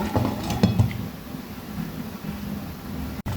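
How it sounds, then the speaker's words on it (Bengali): A metal lid clinks down onto a pot of khichuri cooking on the stove, a few quick clattering knocks near the start, then a low steady simmer and hiss. "আবার আমি ঢেকে দেব দশ মিনিটের জন্য"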